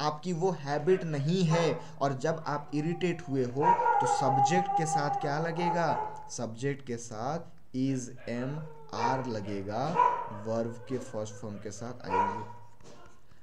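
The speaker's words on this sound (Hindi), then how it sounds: "अब जैसे ये कुत्ता बाहर भौंक रहा है" A dog barks outside in the distance, its faint, intermittent barks buried under someone speaking continuously close by.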